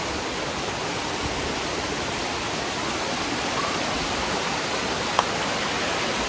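Broad, steady rush of flowing river water at night, close and constant, with a single small click near the end.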